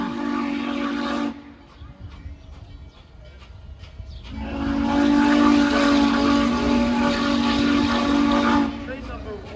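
Norfolk & Western 611 steam locomotive pulling in on the Strasburg Railroad, with a loud, sustained steamboat-type whistle blast, a pause of rolling train rumble, then a second long whistle held over the noise.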